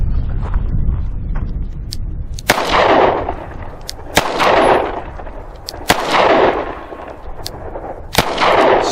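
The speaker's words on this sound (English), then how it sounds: "I'm gonna fire slow this time, come completely off the trigger" A Charter Arms Bulldog .44 Special revolver fires several loud, sharp shots at an unhurried pace, about one every one to two seconds, each crack followed by a long rolling echo outdoors.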